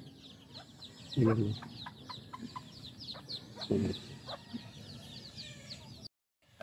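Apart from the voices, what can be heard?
chickens clucking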